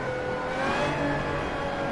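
A car engine in the racing video game Assetto Corsa revs steadily under throttle, a continuous mid-pitched drone that rises slightly and holds, heard alone without talk.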